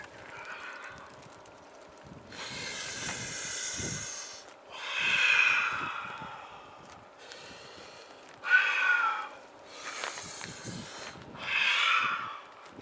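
Several loud, forceful breaths in and out, each a rushing, hissy exhale lasting a second or two, with short pauses between, close to the microphone.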